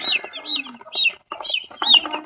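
Young chicks about 45 days old chirping and peeping close by on a rural farm, several birds calling in quick overlapping bursts with short gaps between them.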